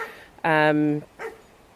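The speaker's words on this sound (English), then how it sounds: "I think the dog is barking either at a stone or a frog" A dog barks once in a loud, drawn-out howling bark outdoors in a garden, with a shorter, softer second bark following a moment later.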